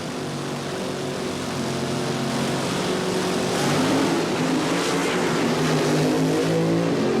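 1977 NHRA Springnationals drag racing cars running the quarter mile at over 200 mph, a loud sustained engine roar building steadily as the cars pass, with no talk.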